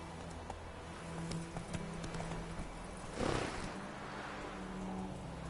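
Hooves of Roach, a horse in a PS4 game, clip-clop in a steady walking rhythm over a low ambient bed, with a brief louder rustling burst midway.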